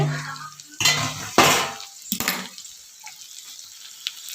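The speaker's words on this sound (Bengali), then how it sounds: "একটু নাড়াচাড়া করে নিতে হবে নুন হলুদ দিয়ে দিয়েছি সবজির মধ্যে" Vegetables seasoned with salt and turmeric being stirred in a cooking pot, heard as a few loud metallic clanks and scrapes of utensil against the pot, with watery sounds and quiet gaps in between.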